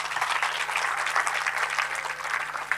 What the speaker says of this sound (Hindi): तो तालियां बजाया करिए।